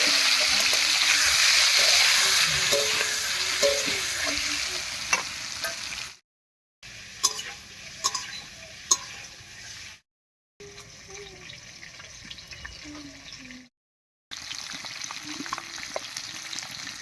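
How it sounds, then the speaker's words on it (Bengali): Eggs rubbed with turmeric and salt fry in mustard oil in a kadai, a steady close sizzle with stirring scrapes and small clinks, broken by short silent cuts. "এবারে হলুদ লবণ মাখিয়ে হালকা করে ভেজে নেব।"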